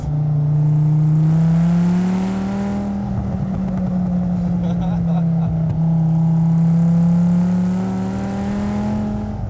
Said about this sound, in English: you let off, you get some nice crackles and stuff.